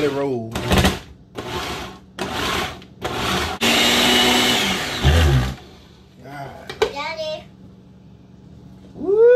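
A janky food processor, held down by hand while it runs, whirs loudly in short bursts and then one longer steady grind, with children's voices chattering between the bursts.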